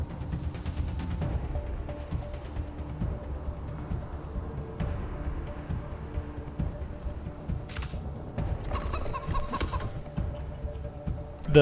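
Chickens clucking in the video game Wasteland 3, a steady run of soft, fairly faint clucks over continuous game ambience, with a few sharper clicks and rustles in between.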